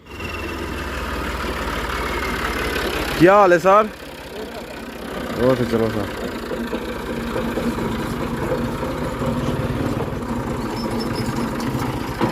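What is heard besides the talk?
tractor engine idling in the field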